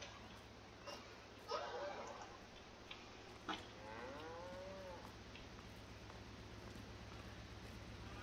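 Cows moo in Farming Simulator 22 on a 1950s-style farm in winter: a few moderately loud, drawn-out calls rise and fall over a steady low hum, with faint ticking and little else.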